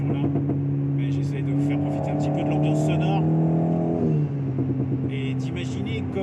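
Alpine A110 S Stage 2 running on SP98, driven on a public road: an engine drones steadily from inside the car, climbs through a rev rise, then drops sharply on a gear change, with speech over much of it.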